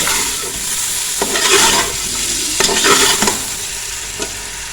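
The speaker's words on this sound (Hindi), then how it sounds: "जब तक हमारा गोश्त फ्राई हो रहा है चिकन" Chicken pieces frying in a pot for yakhni pulao, a steady sizzle with bursts of louder stirring and scraping at irregular moments, close and alone without talk.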